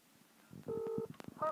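Telephone keypad tones beep briefly as a number is dialed for a prank call: a few short, quiet electronic tones in quick succession, close by.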